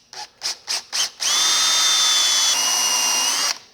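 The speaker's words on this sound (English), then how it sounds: "drill a hole in it to accept the glass tube" A power drill gives four short bursts of whirring, then runs in one long steady whine as it bores a hole through a stopper, loud and close.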